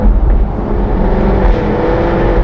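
Jaguar F-Type R engine, a loud, deep, continuous rumble heard close from inside the car while driving, steady throughout with no voices.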